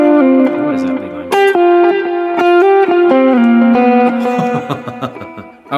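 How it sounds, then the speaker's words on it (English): An electric guitar plays a lead line through heavy overdrive with delay and reverb, sustained notes and quick runs ringing on and trailing into each other. It is loud and close, with no talk over it. "if I'm gonna do a lead line, often I've got a bigger amount of overdrive and delay and reverb going on"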